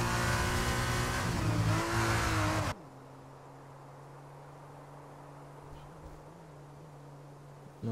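Engine roar and squealing tyres of a Formula 2 race car in a racing video game at Portimao as it spins toward the wall, loud at first, then cutting to a low steady engine drone.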